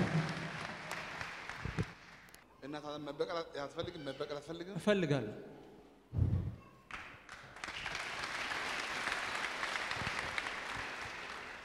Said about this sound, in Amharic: ደስ ያለው ለጌታ ክብር ጭብጨባ ለታ